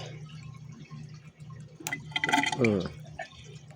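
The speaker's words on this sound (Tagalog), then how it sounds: "Water check. Tumutulo-tulo lang." Water trickles and drips in a hydroponic NFT growing system, with a quiet low hum first, then a short burst of splashing and gurgling flow near the end.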